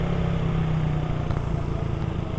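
A Motor Star 200cc motorcycle rumbles past close by on the road, its steady engine drone loud and continuous with a slight rise and fall, no voices over it.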